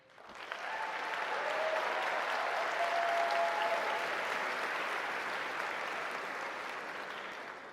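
Applause for 2014 fall graduates at a College of Fine Arts convocation, a broad steady wash of crowd clapping in a large hall that swells quickly and holds for several seconds.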